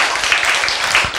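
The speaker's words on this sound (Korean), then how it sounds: "박수." Audience applause at a health lecture, a brief burst of scattered hand clapping in a room, moderately loud and heard alone.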